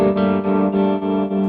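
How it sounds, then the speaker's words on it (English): An electric guitar runs through an AS Pedals Tremuntana tremolo pedal with a longer reverb switched on, giving a sustained, warm chord that pulses rhythmically in steady throbbing waves, loud and close with no talking. "Gonna kick on a longer reverb here"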